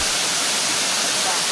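A waterfall running muddy after rain near Port Barton roars as a dense, steady broadband rush, close and loud throughout, with a voice faintly under the water noise.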